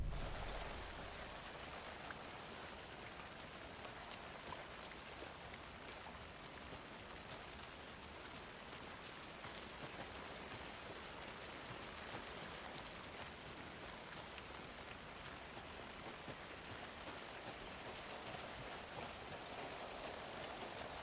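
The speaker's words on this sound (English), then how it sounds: "That rain sound." Steady rain in the video game Alan Wake 2 hisses evenly on surfaces, soft and continuous for the whole stretch, without voices or other sounds.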